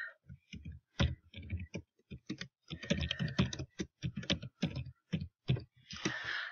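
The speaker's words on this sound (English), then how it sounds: "So let's type this out." Keys clack on a computer keyboard in quick, uneven bursts of close, crisp clicks as text is typed into cutting-design software, with short pauses between runs of keystrokes.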